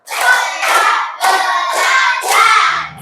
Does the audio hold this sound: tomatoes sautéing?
no